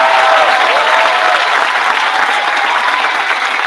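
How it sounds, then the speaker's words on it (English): A large audience gives dense, steady applause for a graduating middle school class at an outdoor moving-up ceremony under a tent; the clapping stays loud and even throughout, with no voices over it. "Let's have a round of applause for the class of"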